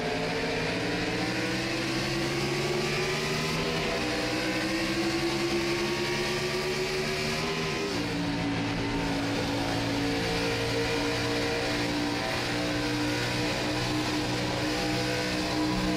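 Stock race car engines droning at full throttle on a restart at Darlington Raceway in a racing game, a loud continuous onboard roar with two audible upshifts early on, then a steady high whine.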